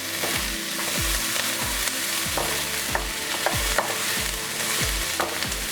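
Egg bhurji frying and being stirred in a pan with curry leaves, a steady close sizzle broken by repeated scraping strokes of a spatula at a regular rhythm, with no talking.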